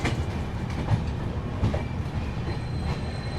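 Bengaluru–Danapur express train pulling out of Prayagraj Chheoki junction, a steady rumble with faint clicking wheel noise and occasional soft knocks, continuous and moderately close, with no voices.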